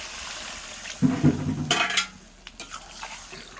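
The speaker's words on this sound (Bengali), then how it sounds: "এবার আমি জলটা ঢেলে দেবো" Water is poured into a pan of spiced fried potatoes, giving a short, sudden splash and sharp hiss with a few pot clanks, before the cooking settles back to a low simmer.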